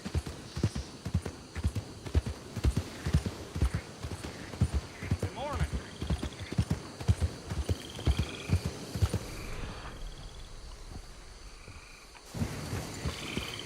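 Hooves of a large Ardennes war horse clip-clop in a steady walking rhythm in Red Dead Redemption 2, close and clear, while a voice talks over them; the hoofbeats pause near the end.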